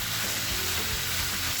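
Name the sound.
chicken frying in a pan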